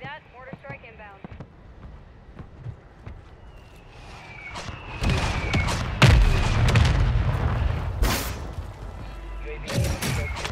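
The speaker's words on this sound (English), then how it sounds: "Mortar strike inbound." Mortar strike explosions in Call of Duty Warzone 3 on Ashika Island, heavy booming blasts and cracks that swell and rumble, mixed with gunfire, footsteps and a radio voice.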